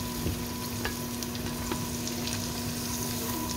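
Onion fries in hot oil as it is stirred for a bacon pasta, a dense, even sizzle with light scraping clinks from the spoon, close up and steady, with no talking.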